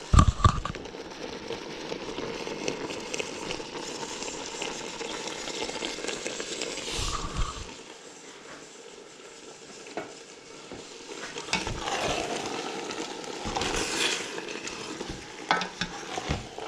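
Vegetable pasta sauce simmering and bubbling in a pan with pasta, a steady close sizzle and soft bubbling with occasional stirring scrapes, no talk.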